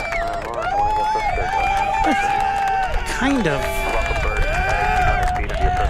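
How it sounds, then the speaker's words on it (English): Crowd clapping and cheering with many voices talking and calling over it, continuous and dense, fairly loud and nearby. "kind of weak and forced applause"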